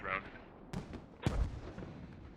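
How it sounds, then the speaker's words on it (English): Russian mortar shells land in the video game Squad. Two sharp, booming impacts come about half a second apart, with faint talk and rumbling battle noise around them. "I believe these are Russian mortars because they are hitting the point."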